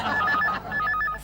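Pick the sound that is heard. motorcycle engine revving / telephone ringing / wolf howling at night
telephone ringing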